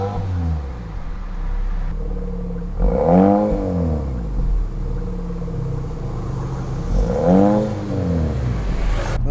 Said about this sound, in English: it's also a variable exhaust, meaning you can change the note for when you want to go get that sporty little rumble